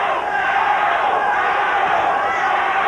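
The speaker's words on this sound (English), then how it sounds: "Shadow, which is Knight's nickname, is the chant from the crowd" A boxing crowd at a fight between Rocky Lockridge and Harold Knight roars and chants Knight's nickname in a steady, dense wall of voices that fills the arena without a break.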